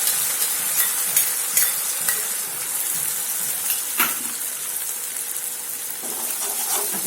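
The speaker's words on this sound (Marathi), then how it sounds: "ह्याच्यामध्ये आपलं हे दह्याचं सारण टाकून घेऊया गॅसची फ्लेम कमी ठेवायची" Yogurt mixture for a dahi bhindi dish is stirred into fried onions in a pan over a low flame, a close, steady sizzle with soft scraping stir strokes and a sharper clink near the middle, with no talking.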